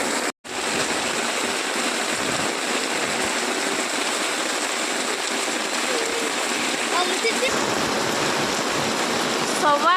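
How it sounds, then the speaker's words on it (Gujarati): Steady, dense roar of heavy rain pouring down without a break, loud and close throughout. "એટલો હદની બહાર વરસાદ આવે છે"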